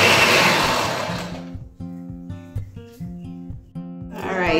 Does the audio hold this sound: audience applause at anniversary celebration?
no